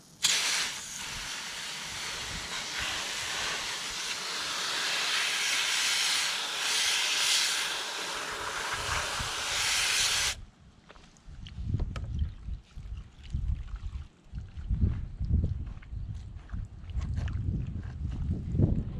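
Part being rinsed during service of a Honda Pioneer 700, with a strong continuous hiss of spraying water for about ten seconds, then quieter splashing and sloshing as the part is worked in the water.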